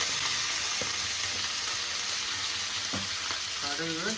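Mustard seeds, dried chilies and curry leaves fry in hot oil, giving a dense, steady crackling sizzle that runs throughout, with a few soft clinks from stirring.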